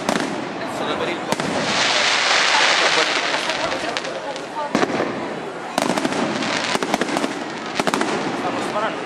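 Fireworks go off at the San Gregorio di Catania feast, a dense, continuous crackling barrage with sharp individual bangs standing out, loud and close, with crowd voices mixed underneath.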